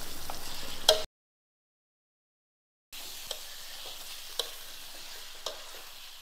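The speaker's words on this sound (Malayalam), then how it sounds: "എന്നിട്ട് നമ്മളിത് ഹൈ ഫ്ലെയിമിൽ ഇത് നമ്മളൊരു 2 മിനിറ്റ് നമ്മളൊന്ന് ഫ്രൈ ചെയ്തെടുക്കാം" Marinated chicken frying in a pan on a high flame, giving a soft steady sizzle with a few light stirring clicks, broken by a stretch of silence partway through.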